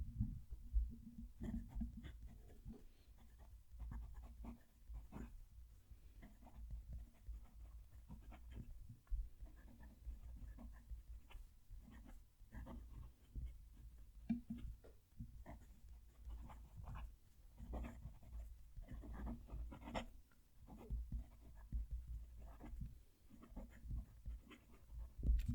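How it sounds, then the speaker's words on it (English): Fountain pen nib, a Fuliwen 017, writing a sentence on paper, close and faint, giving soft continuous scratchy strokes with brief pauses between words and no talk. "Let's move the mic and write a sentence."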